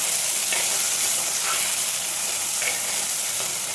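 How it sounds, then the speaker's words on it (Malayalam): Tomato pieces and curry leaves fry in a pan for a fish curry, giving a steady, loud sizzle with a few soft stirring scrapes across it and no talking. "ഈ സമയം നമുക്ക് ഒരു തക്കാളി ചെറുതായിട്ട് തന്നെ ഇട്ട് കൊടുക്കാം"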